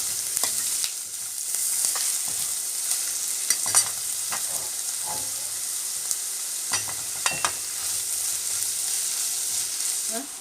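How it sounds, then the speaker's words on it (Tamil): Onions sauté steadily in a pan, a constant close sizzle broken by scattered scrapes and taps of stirring, with no voices. "இப்போ வெங்காயம் நல்லா வதக்க விட்டுடலாம்"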